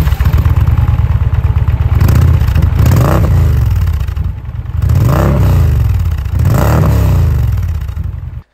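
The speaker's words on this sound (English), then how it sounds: "Of course, it produces that V-twin rumble that so many riders love." An Indian Pursuit motorcycle's V-twin engine rumbles loud and close, a deep pulsing throb that rises and falls through several revving swells with no talk over it.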